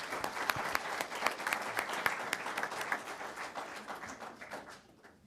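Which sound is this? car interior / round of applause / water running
round of applause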